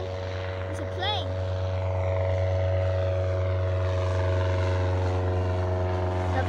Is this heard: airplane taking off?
yes